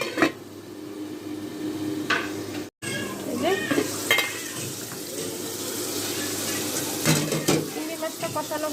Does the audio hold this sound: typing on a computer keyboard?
no